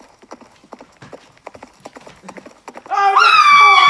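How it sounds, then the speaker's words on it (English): Horse hooves clip-clop in a quick, steady rhythm on a nighttime ride, close and clear, before a loud, sustained whinny-like harmonic tone takes over near the end. "Okay, horse, let's go for a ride, even though it's dark."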